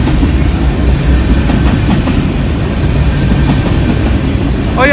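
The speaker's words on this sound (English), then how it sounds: "Well, train's almost over." A long freight train rolls past close by, a loud, steady rumble of wagons with continuous rhythmic clacking of wheels over rail joints and a faint squeal at the end.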